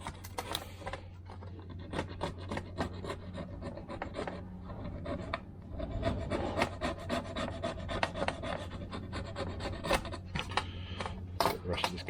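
Old gasket material being scraped off a brass cooling-system part from a 1979 MG Midget 1500, a close, steady rasping scrape with quick strokes throughout.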